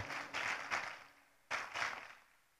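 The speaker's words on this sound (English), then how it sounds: "Give a big applause for them" Bursts of audience applause for the guests at a Jakarta rally and expo event, two short waves of clapping, moderately faint and somewhat distant.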